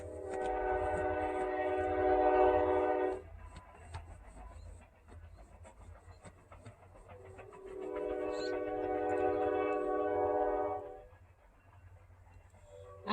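Out on a ranch, a distant train sounds two long, harmonically rich horn blasts separated by a pause, over a steady low rumble of rolling cars and faint background noise.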